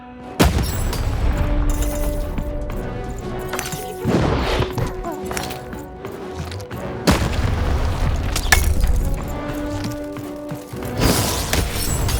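Cannons firing in the video game Lost in Random, several heavy booms with crashing impacts spread across the stretch, rising loud over a constant bed of game music and effects.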